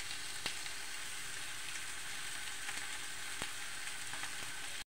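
Corn rice fries in garlic and butter with a steady, close, soft sizzle throughout, broken by a few light clicks before a sudden cutoff.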